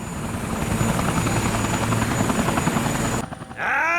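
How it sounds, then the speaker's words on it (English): A police helicopter in the Yakuza 4 video game, its loud steady rotor and engine roar close by, cutting out abruptly near the end and giving way to other game sounds. "Alright, you have a helicopter."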